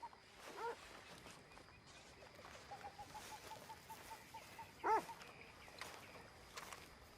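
Dog barking in the video game Red Dead Redemption 2: a couple of short, sharp barks stand out over a quiet outdoor ambience with faint fowl clucks nearby.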